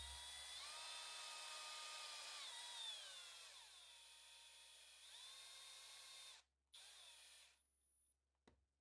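Power drill on a low setting driving rod ends during an Axial SCX10 Pro RC crawler build: a steady close whine that holds for several seconds, dips in pitch as it loads up, then cuts off with a brief restart.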